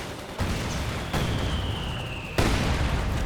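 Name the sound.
mortar explosion hitting Panzer Grenadiers in video game Company of Heroes 2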